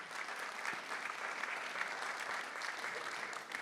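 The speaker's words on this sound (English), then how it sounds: "So give them a round of applause," Steady applause from a sizeable crowd, even and sustained throughout without pauses or cheering.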